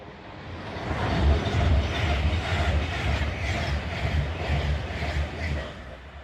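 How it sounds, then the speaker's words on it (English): A Pendolino train passes through Watford Junction station in Hertfordshire, a steady, loud low rumble with some rhythmic wheel clatter that holds throughout the passage, and no voices over it. "here's a Pendolino"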